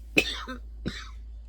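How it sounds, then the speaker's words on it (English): Two sharp coughs, a bigger one then a shorter follow-up, from a person with sinus drainage lingering after a cold, close and clear against a quiet room. "I still have this sinus drainage, and it makes me cough"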